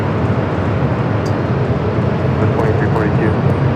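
Airliner taking off from runway 24 left at Los Angeles International Airport, a loud continuous engine roar and rumble with a brief chirp or two over it, no talking.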